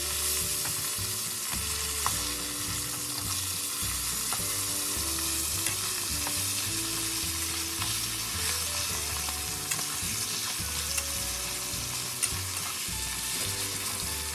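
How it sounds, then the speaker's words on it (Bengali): A fish head frying in oil in a wok while a spatula breaks it into small pieces. A steady, close sizzle runs under repeated scraping and stirring strokes, with no voices. "ভালো করে ভাজা হয়ে গেলে একটা খুন্তি দিয়ে মাছের মাথাটাকে কড়াইয়ের ভেতরে ছোট ছোট টুকরো করে ভেঙে নিতে হবে"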